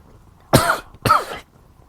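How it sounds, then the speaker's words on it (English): Two harsh coughs in quick succession from a man recovering from strep throat, close to the mic, with quiet pauses around them. "Pardon the cough."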